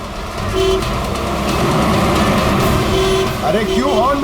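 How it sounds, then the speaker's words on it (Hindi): Loud rumbling traffic with a couple of short horn toots, followed by warbling horn-like tones near the end, under voices. "अरे क्यों हॉर्न मार रहा है?"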